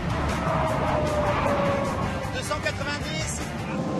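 Steady broadband wind and road rush inside an Audi S8 Plus limousine cruising at about 280 km/h, fairly quiet and even, with a person talking over it.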